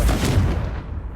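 Confringo blasting spell cast in Hogwarts Legacy, a single loud explosive boom with a deep, rumbling body that decays over about a second.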